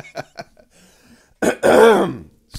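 A throat clearing followed by a short cough and a longer rasping cough-clear, close and loud, with brief quiet gaps between.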